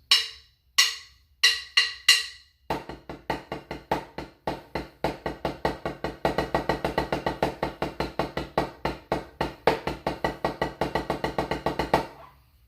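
Crisp drum strokes played alone, first a few spaced accented hits, then a steady run of quick triplets shifting into faster sixteenth notes with accents.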